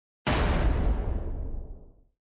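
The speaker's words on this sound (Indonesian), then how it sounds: "Terjadi sebuah ledakan yang besar." A single big explosion sound effect bursts in suddenly at full force, a deep, booming rush that rumbles and fades away over about two seconds, heard alone.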